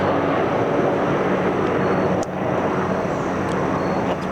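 Two helicopters passing overhead near a house, a steady broad rotor and engine drone that stays loud and even throughout without clear rise or fade.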